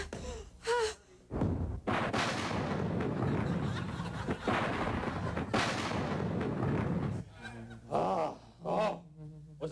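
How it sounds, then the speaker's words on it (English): A house blown up by too much gunpowder in a TV show scene, a long rumbling roar of explosion and debris between short breathy gasps and vocal sounds. "did I just hear a house explode?"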